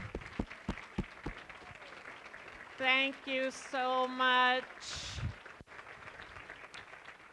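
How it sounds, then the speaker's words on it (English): Audience at an education coalition event applauding teachers, a thin patter of claps at the start, then a voice talks over scattered clapping that continues faintly underneath. "let's give a round of applause"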